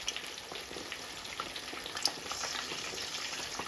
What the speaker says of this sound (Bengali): আলু ভাজিয়া নিচ্ছি আলুর স্লাইস করে করে ভাজি ভাজি নিচ্ছি